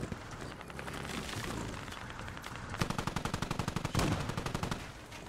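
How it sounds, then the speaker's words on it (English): Automatic gunfire in the tactical shooter Squad rattles in fast, evenly spaced bursts, fairly close and loud, with a sharp heavier burst partway through and no talk over it. "By the way, we're getting shot at."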